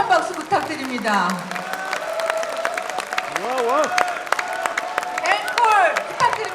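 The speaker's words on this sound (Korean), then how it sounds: "노래보다 더 힘찬 박수 부탁드립니다." An audience at a Korean book launch event applauds loudly and steadily, with voices and cheering mixed into the clapping.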